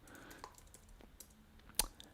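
Faint, sparse clicks of a computer keyboard being typed on during a programming session, with scattered soft keystrokes and one sharper click near the end.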